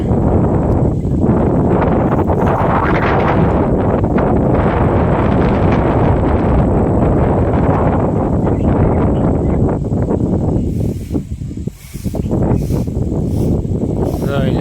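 Strong, cold gusty wind roaring against the microphone almost continuously, easing briefly near the end, with lightning about.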